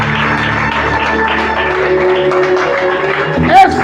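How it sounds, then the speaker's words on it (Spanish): Church congregation applauding, a loud sustained wash of clapping mixed with sustained music and a swelling voice near the end. "Denle un fuerte aplauso a Dios"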